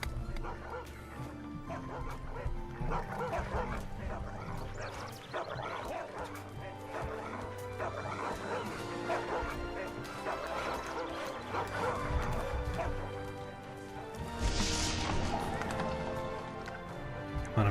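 Dogs barking and yipping in the fantasy strategy video game Majesty 2, repeated barks and whimpers over game music and effects, fairly faint and continuous, with a brief louder burst near the end.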